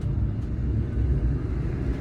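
A car passing on a nearby road gives a low, steady rumble throughout the brief moment, fairly loud and unbroken, with no voices.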